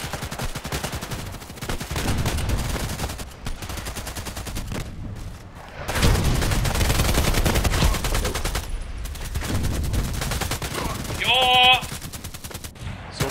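Loud, sustained automatic gunfire in the online shooter Contract Wars: long rattling bursts with brief pauses between them, close and dominant throughout, with a faint electronic tone near the end.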